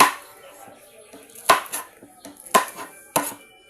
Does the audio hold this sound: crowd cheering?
no